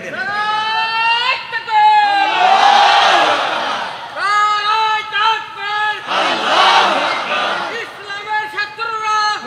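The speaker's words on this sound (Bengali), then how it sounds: "জোরে আওয়াজ করে বলুন আল্লাহু তাকবীর।" A large crowd roars the takbir, Allahu Akbar, at a religious gathering, two loud swelling collective shouts answering a preacher whose amplified voice speaks between them.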